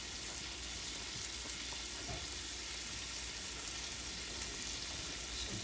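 An apple cider vinegar chutney cooks down in a pan with a faint, even sizzle and quiet bubbling that runs steadily and evenly throughout.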